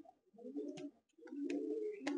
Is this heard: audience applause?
no